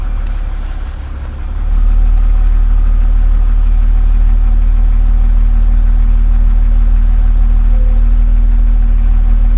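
A BMW E46's engine turns over and settles into a steady, loud idle close by, a constant low rumble that holds unchanged for the rest of the stretch with no talking.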